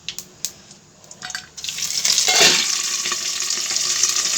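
Curry leaves hit hot frying oil with a few scattered crackles before bursting into a loud, sustained sizzle that sputters and spatters close by and keeps going to the end.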